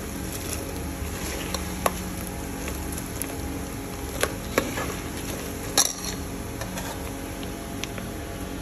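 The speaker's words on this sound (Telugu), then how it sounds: "పల్లీలు వేగిన చప్పుడు వస్తుంది" Peanuts roasting in a pan, a continuous low crackle with scattered small pops and clicks, a few sharper ones standing out, close and steady.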